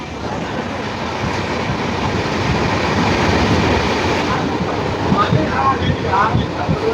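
A passenger train runs steadily through flat farmland in rural Madhya Pradesh, heard from on board, with a continuous loud rumble, rail noise and rhythmic clickety-clack that grows slightly busier toward the end.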